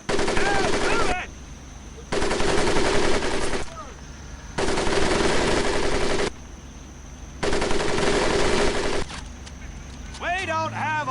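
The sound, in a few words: machine gun fire in Medal of Honor Pacific Assault video game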